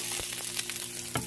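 Acorn squash filling sautéing in a pan, a steady close sizzle with a few soft stirring clicks, no voices.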